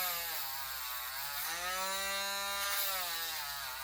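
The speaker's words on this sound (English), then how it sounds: "Then I usually ream it out" A power tool whines steadily while reaming a hole in a quahog clamshell for jewelry, a loud continuous drone whose pitch sags and rises slightly as the bit works.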